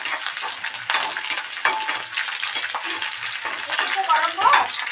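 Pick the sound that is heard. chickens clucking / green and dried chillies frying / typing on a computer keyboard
green and dried chillies frying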